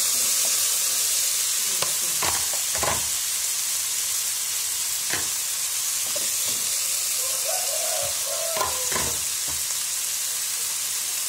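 Vegetables with carrot fry in a pan, a steady sizzle running throughout while a utensil scrapes and stirs in several distinct strokes, close and fairly loud.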